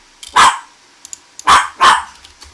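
A dog barks three times, loud, close and sharp, with quiet gaps between the barks and no talking.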